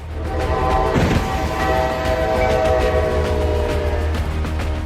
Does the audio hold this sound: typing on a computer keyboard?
no